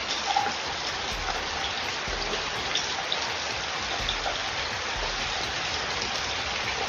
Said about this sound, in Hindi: तो बारिश तो झमाझम हो गया